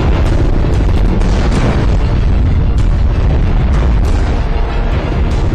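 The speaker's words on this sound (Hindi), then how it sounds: "जैसे ही प्लेन मॉल में घुसा, यहाँ एक जोरदार धमाके के साथ आसमान में आग और धुएं का गुबार उठा" Loud, continuous roar of a plane crashing into a shopping centre in Melbourne, Australia, with a sustained rumbling blast and crackling bursts filling the whole stretch, no voices.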